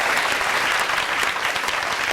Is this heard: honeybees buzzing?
no